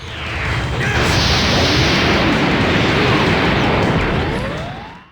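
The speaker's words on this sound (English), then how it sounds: "Compared to Tenkaichi 3, which actually sounds like a bomb." Spirit Bomb detonating in Dragon Ball Tenkaichi 3, a huge sustained roaring blast that swells in and holds for several seconds, loud and dense with rumbling low end and crackling debris, no voices.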